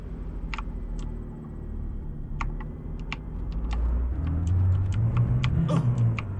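Car engine in Arma 3 rumbling low and steady, swelling louder toward the end, with sharp clicking ticks like keyboard taps scattered over it and no talk.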